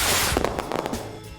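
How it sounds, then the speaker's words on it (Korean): Fireworks bursting in the distance during fireworks season, a rapid run of sharp crackling pops and bangs over about a second, fading into a low rumble. "헐, 불꽃놀이 하네?"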